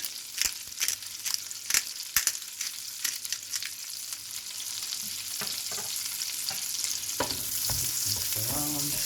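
Seasoned food, salted and peppered, sizzles steadily in a pan while a utensil stirs it, with scraping clicks early on and a louder, denser fry building toward the end.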